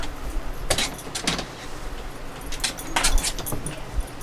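A pet dog called Pinto moves about nearby: a few short bursts of jingling tags, brief whimpers and scuffling come in clusters over a quiet indoor background, with no talk.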